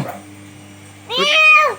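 A cat gives a single clear, rising and falling meow, close and loud, after a quiet stretch of background hum.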